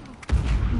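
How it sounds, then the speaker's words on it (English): A grenade blows up in the game Uncharted 4 multiplayer, a sudden loud close boom after a brief lull, then a rumbling decay. "That fucking grenade hit me."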